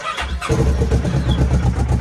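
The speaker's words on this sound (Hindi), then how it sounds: "चलो इंजन करते इसका काफी दिनों के बाद स्टार्ट।" A motorcycle engine, unused for many days and needing several presses of the starter switch, cranks and catches at about half a second, then runs with a steady, loud, low rumble close by.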